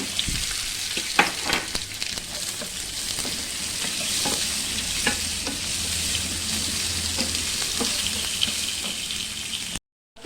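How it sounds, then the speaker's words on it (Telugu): Onions sizzling in hot oil with mustard seeds, chana dal and cumin for an onion-tomato chutney, a steady broadband fry with scattered pops and occasional stirring scrapes, close and continuous, cutting off abruptly at the end. "1/2 స్పూన్ ఆవాలు, 1 స్పూన్ శనగపప్పు, కొంచెం జీలకర్ర వేగిన తర్వాత ఉల్లిపాయలు వేసుకుంటున్నాను"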